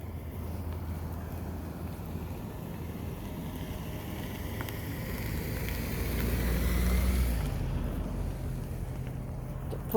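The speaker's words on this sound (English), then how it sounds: "Oh, here comes a car." A car comes along a road outdoors, its low engine rumble swelling gradually to a peak past the midpoint and then easing off, with steady wind noise throughout.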